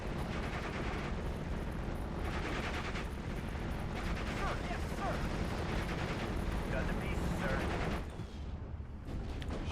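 Gunfire in the World War II strategy game Steel Division Normandy 44, with dense continuous bursts and rumbling battle noise filling the scene at steady loudness, cutting away briefly near the end.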